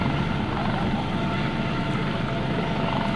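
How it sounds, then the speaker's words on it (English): An HH-65 Dauphin helicopter at an airshow gives off a steady, broad rotor and engine roar, constant and fairly loud with no voices over it. "our helicopter, the HH-65 Dauphin helicopter, has rescued this person."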